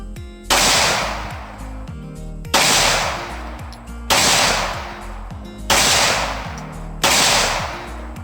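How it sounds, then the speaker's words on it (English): Gunfire on an outdoor shooting range rings out as five loud, sharp reports about one and a half seconds apart, each with a long rumbling decay, close and with no talk over them. "You may commence firing when ready."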